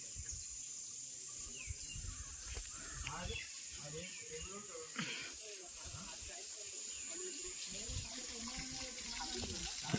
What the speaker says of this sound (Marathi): झरा आहे.